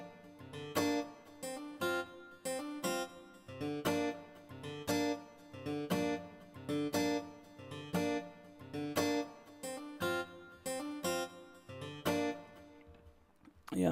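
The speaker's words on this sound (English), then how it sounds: "You can just follow the melody of the acoustic guitar and sound like this" An acoustic guitar melody from the free AGML plugin, programmed in MIDI, plucks short repeated phrases in a steady rhythm, each group of notes rising and fading, clear and alone without any voices.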